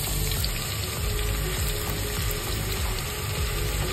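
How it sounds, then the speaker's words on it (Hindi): Finely chopped garlic frying in a pan for pumpkin and lentil dalcha, giving a steady, dense sizzle that runs unbroken throughout, close and fairly loud, without speech. "अब हम इसमें अपनी बारीक कटी गार्लिक डालेंगे"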